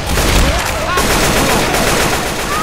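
Rapid automatic gunfire in Left 4 Dead 2 on an expert campaign in the Swamp Fever swamp, a dense, loud, continuous burst of shots close up through the whole moment.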